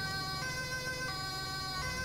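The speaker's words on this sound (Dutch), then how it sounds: "Ja, dan rijden wij snel weg voor de sirene." Ambulance siren on an emergency motorcycle in the GTA 5 EMS mod, a steady electronic wail with cycling pitch sweeps over a low engine hum, moderately loud and continuous without voices.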